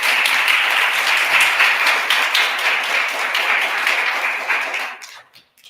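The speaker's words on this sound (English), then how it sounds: "Let's give them a big round of applause" Loud, sustained applause from a large crowd at an Inauguration Day ceremony, steady clapping that fades out abruptly at the end.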